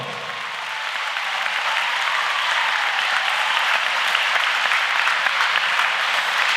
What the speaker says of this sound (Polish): Zróbcie dla nich piękne morze oklasków